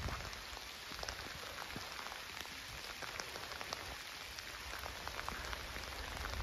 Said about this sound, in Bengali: বৃষ্টি পড়ছে এখন, আমরা এই শেডের তলে এসে দাঁড়িয়েছি